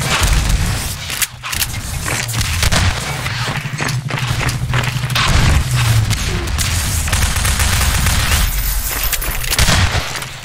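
Rapid gunfire in a Half-Life 2 Deathmatch match, volleys of loud, close shots and thuds firing almost continuously, with brief pauses between bursts.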